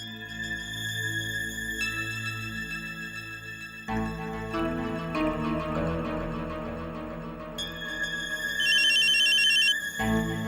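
A telephone ringing in a TV drama scene, electronic ring tones repeating over a layered musical score, loud and steady with no voices.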